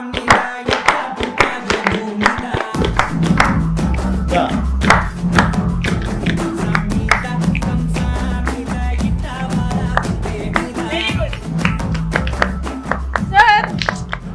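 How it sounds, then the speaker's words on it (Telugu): Group clapping, children included, during a chat with actress Niharika Konidela, sharp claps repeating steadily over music and voices for the whole stretch, loud and close. "క్లాప్ చేయండి bro. Clap everybody children clap."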